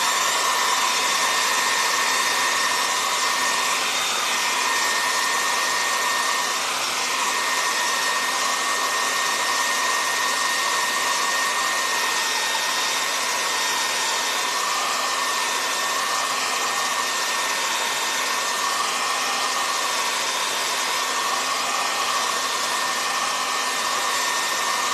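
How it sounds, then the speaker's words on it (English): A hair dryer runs steadily at close range, blowing over wet acrylic paint, with a constant airy roar and a high whine held unbroken for the whole stretch, and no talking. "I might have to hit it with a blow dryer some more"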